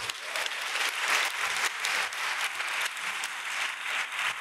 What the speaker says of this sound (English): I hope that clap was for what you said and not for what's expected from me